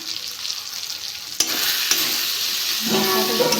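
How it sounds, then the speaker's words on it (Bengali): Turmeric, chili powder and coriander powder sizzle in hot oil in a pan for a ridge gourd chochori, a close steady frying hiss that swells suddenly as the spices hit the pan, with faint stirring scrapes. "ভালো করে কষে নিয়েছি"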